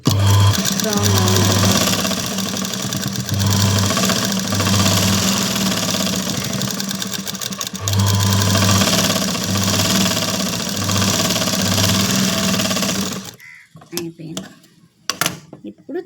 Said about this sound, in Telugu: దీన్ని ఇలా తిప్పేసి డబల్ కుట్టేసుకున్నాం